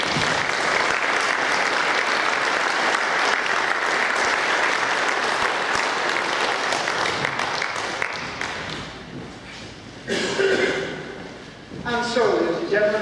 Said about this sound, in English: let's give them an ovation round of applause.